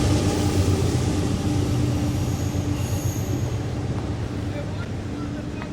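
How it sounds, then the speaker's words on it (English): A train rolls past near a truck loading dock, a steady loud rumble of railcars with squealing wheels and faint rail clatter that continues throughout. "Choo-choo trains over there."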